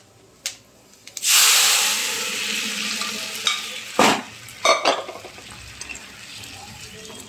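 Soaked chana dal is tipped into a hot cooking pot with asafoetida, setting off a loud splash and hiss that settles into steady frying. A few short scrapes and knocks of stirring follow.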